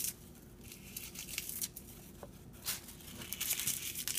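Dried rose petals tumble and crinkle into a small pint-sized glass container, a dry papery rustle with scattered light patters and tearing crackles, close and fairly faint, with no voices.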